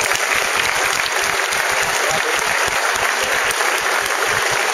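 At an outdoor summer festival, an audience gives loud, continuous applause to the event's sponsors, with dense crowd clapping lasting nearly five seconds without pause.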